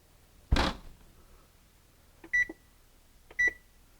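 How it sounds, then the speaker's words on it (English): Microwave-style oven control panel being set for cast iron pans baking inside: a soft clunk, then two short electronic beeps about a second apart, close and clear in a quiet kitchen. "Now it's time to turn on the timer."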